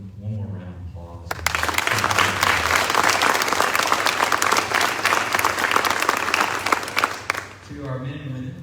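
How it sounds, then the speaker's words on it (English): An audience at a Fort Cavazos family scholarship award ceremony breaks into loud sustained applause lasting several seconds, briefly bracketed by a speaker's voice before and after. "one more round of applause"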